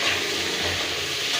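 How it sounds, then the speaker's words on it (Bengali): Pointed gourd (patol) frying in oil with turmeric crackles in a loud, dense, continuous sizzle close to the pan, with no voices. "আমি পটলটা ভাজা হয়ে গেছে, তুলে নেবো"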